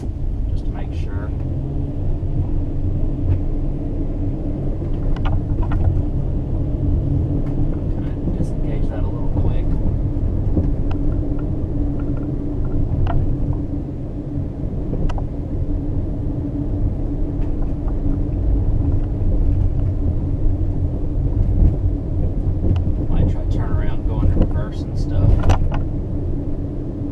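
A Honda Element with 216,000 miles and a newly replaced clutch slave cylinder rumbles steadily up close as the gears are cycled, with faint clunks from the shifter and a person talking over the engine.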